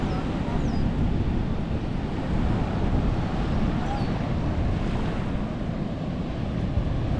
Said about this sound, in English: The name of this beach is Sardinera, located in Hatillo, Puerto Rico.